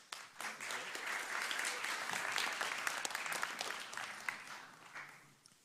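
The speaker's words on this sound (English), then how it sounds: "Okay, give him an applause." An audience claps to welcome a speaker at a tech conference talk on HTML5, a dense burst of applause from a crowd that swells quickly, holds steady, then thins out and fades.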